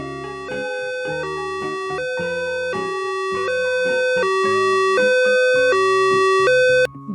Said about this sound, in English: A for ambulance. An ambulance rushes to help people who are hurt or sick.